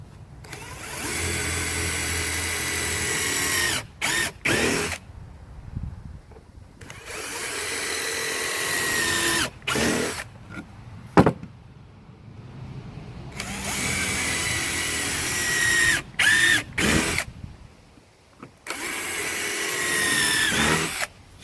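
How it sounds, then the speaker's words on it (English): A power drill whirs through wooden boards in four long bursts, loud and close, with short pauses and brief trigger blips between runs. "then I'll take my drill and drill those holes out."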